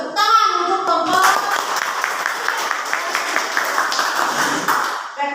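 Classroom students applauding a presenting group, steady hand clapping for several seconds with children's voices chattering underneath, fairly close and lively.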